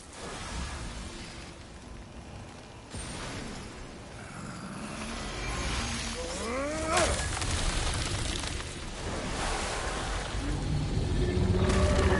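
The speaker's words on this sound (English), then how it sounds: "It flies. It's a Hofgufa. Sounds much happier now." A Hofgufa creature in God of War gives rising, warbling calls amid a rumbling stormy backdrop, moderately loud and repeated a few times.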